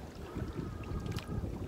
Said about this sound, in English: Wind is charging, making it real difficult for me.